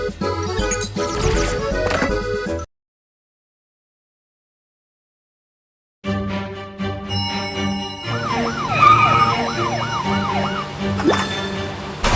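A fire truck siren from a children's firefighting video game wails, rising and falling repeatedly over upbeat synthesized game music, with a gap of silence partway through.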